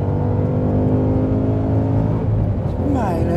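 A 2013 Shelby GT500 with a Tremec six-speed manual accelerates hard, its engine note rising steadily and loud through the gears, with a brief shift dip and renewed climb near the end; someone talks over the engine throughout.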